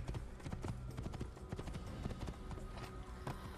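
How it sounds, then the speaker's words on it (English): Horse hooves clip-clop steadily in the video game Assassin's Creed, a quick, even rhythm of close, crisp hoofbeats running without pause. "I have to drive the horse everywhere"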